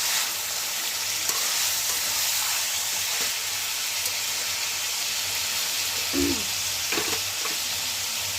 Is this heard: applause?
no